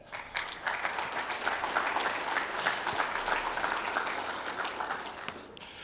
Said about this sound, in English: please give a round of applause to everyone who's presenting and sponsoring today